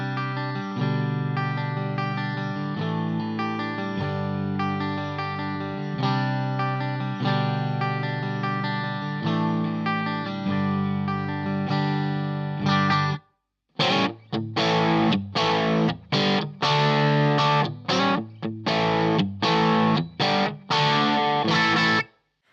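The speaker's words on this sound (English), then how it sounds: "we've got the blend of the middle Texan and the split HFT." S-Type electric guitar in position 2, blending the middle EGP Texan single-coil with the split HFT humbucker, driven with distortion and chorus; long held chords ring out first, then tight staccato strummed bursts separated by short silences.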